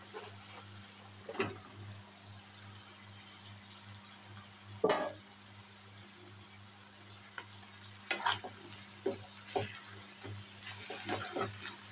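Mushrooms frying in hot oil in a pan, a soft steady sizzle under a low background hum, with scattered clinks and scraping stirs at irregular intervals and no one talking.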